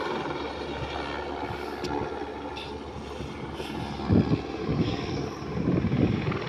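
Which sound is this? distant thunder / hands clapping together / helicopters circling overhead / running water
helicopters circling overhead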